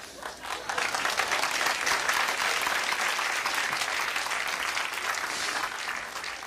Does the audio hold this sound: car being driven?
no